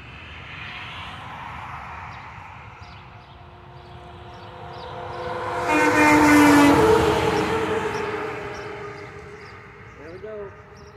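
A Western Star truck sounds a train-style air horn as a big finale: a loud, sustained chord swells up and fades over several seconds against outdoor background rumble, with a brief voice near the end.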